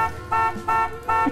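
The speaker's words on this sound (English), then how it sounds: "let's keep honking the horn" Repeated car horn honks from the video game Later Alligator, three sustained bright blasts in a steady rhythm, loud and close with no talking.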